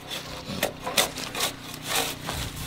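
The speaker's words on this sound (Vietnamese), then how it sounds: "Máy cưa kia là cưa tay hay là tay cưa máy đấy?" A hand saw cuts through wood in a steady back-and-forth rhythm. The strokes are close and rasping, about five in under three seconds, with no talking.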